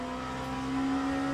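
A racing video game car engine holding a steady high-pitched whine, droning evenly and alone for a moment with a faint rise toward the end.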